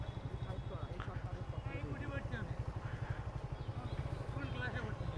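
A motorcycle engine idles close by with a steady low, pulsing chug while it is being parked near a college, and voices talk over it throughout.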